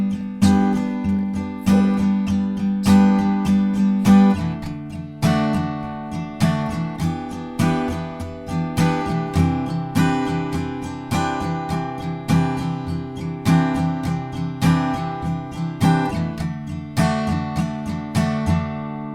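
An acoustic guitar strums the chorus chords of a song in a steady, repeated pattern, close and full, with no voices.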